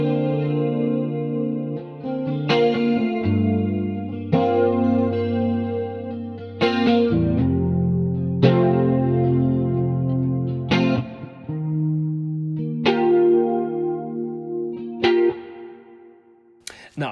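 Electric guitar through a Dimension D chorus effect plays the main part of a song alone: a sequence of strummed chords about every two seconds, each ringing out with a shimmering, wide, clean tone, close and loud with no talking.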